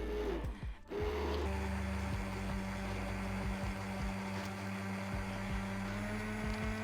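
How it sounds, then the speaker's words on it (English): An immersion blender emulsifies homemade face cream, its quiet motor hum starting after about a second and running steadily with faint intermittent clicks. "use an immersion blender to ensure a stable emulsification"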